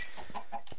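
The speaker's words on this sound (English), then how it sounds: "So here's my little chicken coop." Minecraft chickens clucking in a small coop, a few quick close clucks in a brief, fairly quiet burst.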